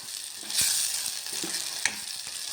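Onions frying in a pan until brown, a soft steady sizzle with a few small crackles and pops, close and alone without talk.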